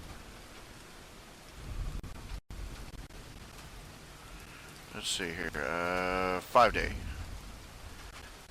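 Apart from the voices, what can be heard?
rain falling on the roof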